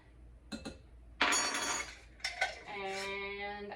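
A spoon scrapes honey off against a bowl in a home kitchen. Close, sharp clinks and scrapes come in short bursts, and a ringing metallic tone sustains at the end.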